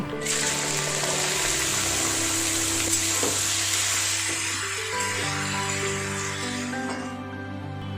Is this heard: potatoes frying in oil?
yes